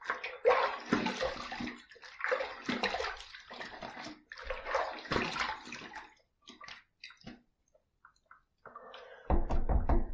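Running water rinses a shaving razor in a bathroom sink, splashing in bursts with pauses between, then a steadier louder stream at the end, no talking.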